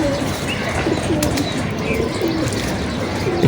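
Pigeons kept on a rooftop, repeated soft low cooing calls in a steady rhythm, close and clear over a light background hiss, with no speech.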